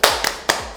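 A children's group does a rhythmic salute clap chant, crisp, close handclaps in a short pattern: a quick burst, a doubled clap, then another single loud clap, with no voices in between.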